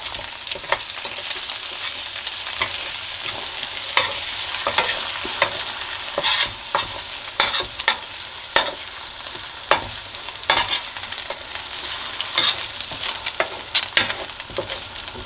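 Steady sizzling from eggs frying in steak juice in a hot pan, with occasional crackles and scraping stirs from a utensil, close up and without talking.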